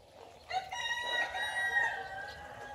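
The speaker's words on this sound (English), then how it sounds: "You can hear all their chickens." A rooster crows once, long and drawn out at a moderate distance, with faint clucking from nearby hens.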